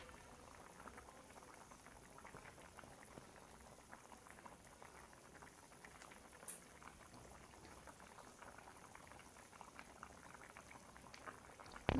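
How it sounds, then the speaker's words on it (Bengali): Water boils in a cooking pot for fish, giving a faint, steady bubbling and crackling simmer that runs continuously without voices. "এই দেখো পানিটা ফুটতে শুরু করছে।"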